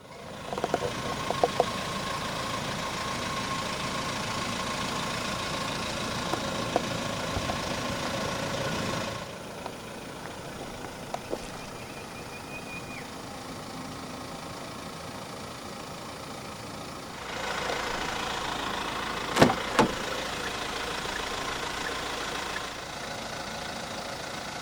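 A 2022 Hyundai Staria 2.2 CRDi diesel idles with a steady, even clatter throughout, with a few small knocks. The level drops partway through and rises again near the end.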